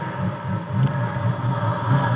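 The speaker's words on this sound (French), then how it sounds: "Vous entendez la sonorité du moteur, gros bruit à l'aspiration, surtout quand elle est froide." A TVR sports car engine idles steadily after a cold start, a deep continuous rumble with a loud, throaty intake note, loud and close, no voices.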